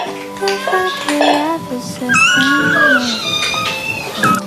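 Devon Rex kitten meowing repeatedly up close, high wavering cries overlapping one another indoors, with faint handling noises around them.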